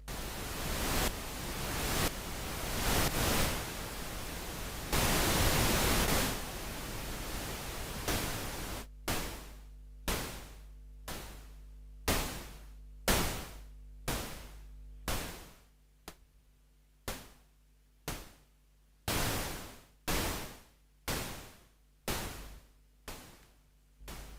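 Steady broadband pink noise hisses for about nine seconds, then turns into a string of short noise bursts pulsing in a regular rhythm with brief silences between.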